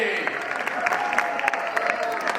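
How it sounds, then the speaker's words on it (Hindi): An audience at a stand-up comedy show claps loudly and steadily, a dense wash of applause filling the whole moment. "एक बार जोरदार ताली हो जाए"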